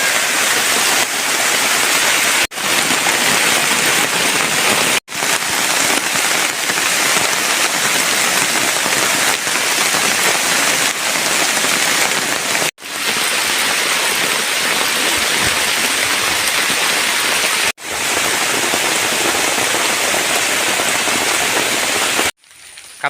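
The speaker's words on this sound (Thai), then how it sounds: "ตอนนี้ฝนก็เริ่ม ซา แล้ว นะครับ" Heavy, steady rain pours down in a forest during the rainy season, a dense and loud hiss that runs without a break for over twenty seconds, with no voices.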